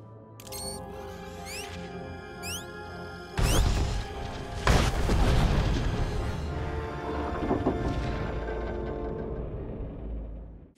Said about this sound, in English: The explosion shook the ground.